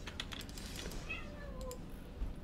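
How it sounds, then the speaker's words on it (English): A pet cat meowing faintly with a drawn-out, rising-and-falling cry over steady computer keyboard typing during a game session. "Don't meow at me."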